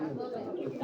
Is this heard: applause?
no